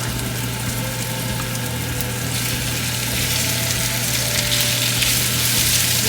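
Onions and beef fry in a pan for a penne pasta dish, giving a steady, dense sizzle that runs evenly throughout with a low constant hum underneath and no talking.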